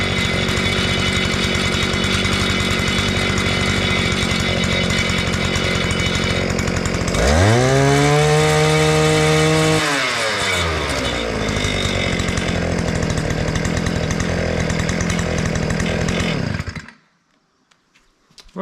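A small Viper engine on an Earthquake cultivator runs loudly nearby, steady with one revving surge in the middle, then cuts off near the end.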